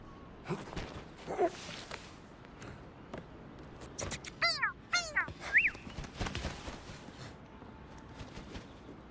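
Crow cawing in the video game Indiana Jones and the Great Circle, several harsh repeated caws in short bursts over rustling and movement sounds, moderately close.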